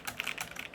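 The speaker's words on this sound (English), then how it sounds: "it's going to start typing in like this" Computer keyboard keys clatter in a rapid, steady stream of close clicks as an automated password script types in quick succession.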